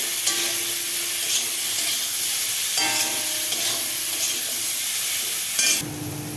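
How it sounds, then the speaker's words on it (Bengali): Steady loud sizzling of vegetables frying in a pan with mixed spices, with occasional stirring scrapes and clinks, constant throughout and no voices. "একটু ভাজা ভাজা করবো সবজিটা"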